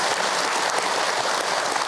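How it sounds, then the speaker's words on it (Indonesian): Audience in a religious lecture hall clapping steadily, a dense continuous applause close by, with no one speaking over it. "Tepuk tangan Bu untuk Ahilman."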